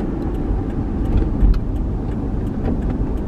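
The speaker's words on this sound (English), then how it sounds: "When I'm here, I've been driving a 4Runner." Steady hum of a Toyota 4Runner SUV on the move, heard from inside the cabin as a continuous low engine and road rumble with no talk.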